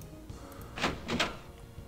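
A door opening somewhere in the game Anvil of Dawn, two soft whooshing, grinding bursts in quick succession, fairly faint over a low background.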